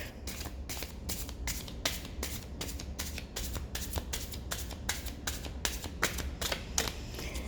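A deck of playing cards is shuffled over and over, giving a steady run of crisp riffling bursts close by, with no voices.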